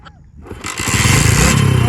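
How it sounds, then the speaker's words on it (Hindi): A motorcycle engine cranks and catches after a short pause, then rises into a loud, close, steady rumbling idle that runs on without interruption. "या स्टार्ट करो बाइक। स्टार्ट करें।"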